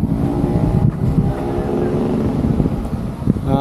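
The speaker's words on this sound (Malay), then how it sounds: "Sekarang angin pun tengah kuat, jadi korang boleh dengar sendirilah macam mana dia punya sound dia sekarang ni." Strong outdoor wind buffets an action camera's microphone, a loud, steady low rumble with gusty fluctuations running throughout, no talking.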